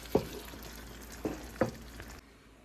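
Spicy sauce being stirred in a pan, a low sizzle under three distinct scraping strokes of a utensil, close and fairly quiet, ending abruptly.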